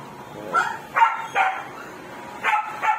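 Snow, a dog out in the rain, lets go five sharp barks at irregular intervals, fairly close, over a soft steady wash of background noise.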